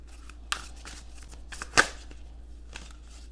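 Tarot cards being shuffled by hand, a series of quick papery riffles and soft slaps at close range, one louder snap near the middle, in a quiet room.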